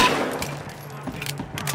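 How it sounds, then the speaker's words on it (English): A burst of gunshots in the video game Battlefield Hardline, several sharp cracks in quick succession over a low hum, short and fairly loud. "Multiple shots fired."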